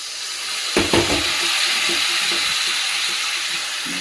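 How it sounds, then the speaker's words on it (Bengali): A little water hits a pan of frying radish curry with a sudden burst of hissing, then settles into a steady, moderately loud sizzle and bubbling that continues to the end. "চাপাটা খুলে আমি অল্প একটু জল দেব"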